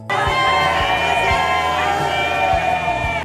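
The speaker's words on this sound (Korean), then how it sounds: "만세의 함성 소리도 들렸는데요" A large crowd shouts "manse" cheers together as the president's car arrives at the Blue House in Seoul, a dense roar of voices with rhythmic group calls, loud and close.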